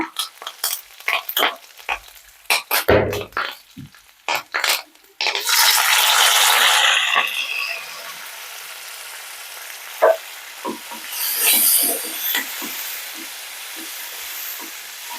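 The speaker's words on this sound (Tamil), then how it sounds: "தக்காளி ஒரு நிமிஷம் நல்லா வதங்கிட்டுங்க" Onion, curry leaves and tomato sauté in a hot pan while being stirred, with loud bursts of sizzling and frying hiss between sharp scrapes and clinks of a spoon, quieter stretches of soft crackle in between.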